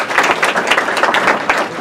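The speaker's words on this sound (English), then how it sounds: "So let's give them a round of applause." An audience bursts into applause at a chamber of commerce golf outing dinner, loud, close and steady clapping from many hands throughout.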